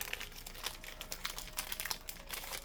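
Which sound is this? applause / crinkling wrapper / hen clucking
crinkling wrapper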